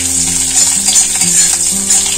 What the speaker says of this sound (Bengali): এই কারি পাতাগুলো হালকা করে একটু ভেজে নিয়ে